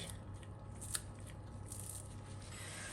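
Small kitchen scissors snip through food while a Passover beef meatball and tomato sauce dish is being prepared, a faint, soft cut or two heard close up in a quiet room.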